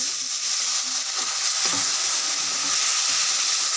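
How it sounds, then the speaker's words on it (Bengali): Spice paste sizzling loudly in a pan with a little water added, a dense steady hiss and crackle throughout, close up and alone with no voices. "সামান্য পরিমাণে জল দিয়ে মশলাটা ভালোভাবে কষিয়ে নেবেন"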